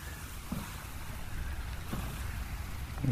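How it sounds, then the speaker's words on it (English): Stormy ocean waves in the survival game Stranded Deep roll in steadily under gusting wind, a continuous low wash with a few heavier surges building near the end. "Here come the waves."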